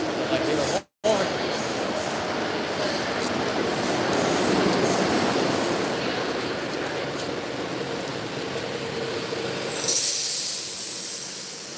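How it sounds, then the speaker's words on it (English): A passing train races by alongside a stopped Kawasaki M8 commuter train, a loud steady rushing rumble with hiss and a brief high wheel squeal near the end. "Unknown train racing by this Kawasaki M8."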